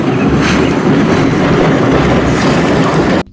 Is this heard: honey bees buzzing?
no